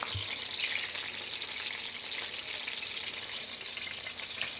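A chicken sauce with olive oil bubbles in a pan while reducing, a steady soft sizzle close by with faint stirring and no voices.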